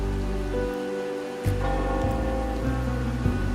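Rainfall in the game Wuthering Waves hisses steadily behind droning music, broken by a brief dip and a soft swell, and no one speaks.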